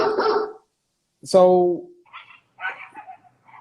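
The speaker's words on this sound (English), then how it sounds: "yeah, they're dogs." Dogs barking outdoors, one clear harmonic bark burst in the middle with fainter distant yips and barks after it, heard after a brief spoken word.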